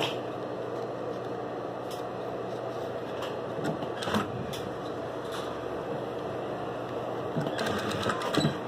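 Sewing machine stitching a small egg-shaped Easter coin purse keychain, a steady close mechanical whir running the whole time with brief louder bursts, no talking.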